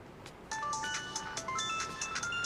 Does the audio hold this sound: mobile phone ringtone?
yes